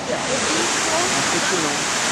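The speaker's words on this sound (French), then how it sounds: "là on est à la cascade" A waterfall pours in a continuous, loud wash of broadband rushing noise with no breaks, and a voice can be faintly heard underneath it.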